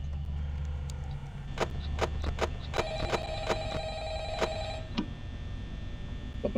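A telephone rings in the video game Five Nights at Freddy's, a bright bell tone with sharp clicks under a steady low rumble, moderately loud and without talk.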